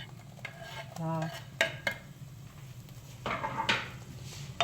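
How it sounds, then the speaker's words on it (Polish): Onion, ginger and pumpkin frying in coconut oil and clarified butter in a pot, stirred with a utensil: repeated scraping strokes and clinks over a steady low sizzle, close and moderately loud. "A ja troszeczkę pomieszam, żeby się wszystko ze sobą wymerdało."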